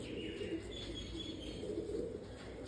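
Kamle pigeons of the Baba Janta breed coo in low, continuous murmuring at a home loft in Punjab, faint and steady with a hum in the background.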